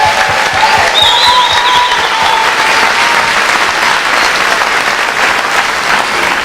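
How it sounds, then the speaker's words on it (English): Loud, sustained applause from an audience at an elementary school moving-up ceremony for fifth graders, with a dense even clatter and a brief whistle or cheer rising above it. "here's our chance to give another round of applause to our 5th graders."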